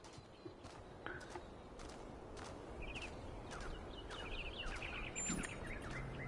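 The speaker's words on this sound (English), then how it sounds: "Do you hear the birds chirping outside the door?" Birds chirp outside a door in the video game The Talos Principle 2, with faint, short high chirps scattered through the middle and end over a steady ambient wash and soft thudding steps.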